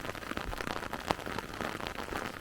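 Steady rain falls outdoors in bad weather during a Scottish castle photography outing, a dense, even patter with scattered sharper drops and no voices.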